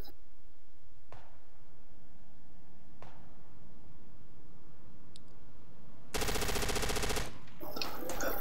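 Gunfire in the military shooter game Project Reality on a desert infantry map: a few isolated distant shots, then a loud sustained burst of machine-gun fire close by, followed by scattered fainter shots.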